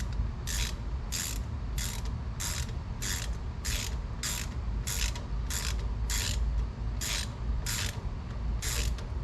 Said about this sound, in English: Try it with just your fingers first before you use the ratchet.